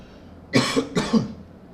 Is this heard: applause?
no